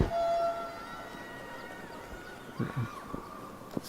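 A full-time hooter sounds at a women's rugby sevens match, a long steady horn tone opening the clip and holding for several seconds, then fading under crowd and field noise.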